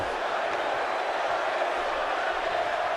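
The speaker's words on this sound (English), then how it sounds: "Now the crowd's cheering for Bray Wyatt as he goes in for the senton." Arena crowd noise from a WWE 2K wrestling match, a steady, dense roar of cheering fans that holds at an even level throughout without breaks.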